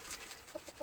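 Jersey Giant chickens, a black and blue American heritage breed, on a farm during an Ohio winter freeze give a few short soft clucks and coos, faint and close, over a steady background hiss.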